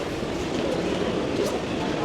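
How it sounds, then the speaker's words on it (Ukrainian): A GO commuter train at Toronto Union Station makes a continuous, dense rumble of rolling rail noise with a station-like echo, while voices murmur underneath. "Тобто такі пригородні поїзди, які розвозять офісний плантон по невеличким містам навкруги Торонто."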